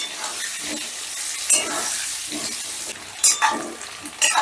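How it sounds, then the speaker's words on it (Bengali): Large potato chunks fry in oil over a high gas flame with salt and turmeric, a steady sizzle broken by a few louder stirring scrapes and clinks, close and without talk. "এবারে গ্যাসের আঁচটা বাড়িয়ে দিয়ে নুন হলুদ দিয়ে আলুগুলোকে বেশ লাল লাল করে ভেজে নেব।"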